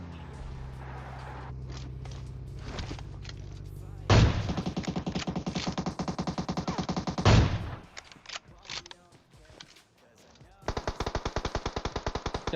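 Gunfire in PUBG Mobile, with bursts of automatic fire in rapid rhythmic volleys and loud single shots, over game ambience and footsteps; someone talks during parts of it.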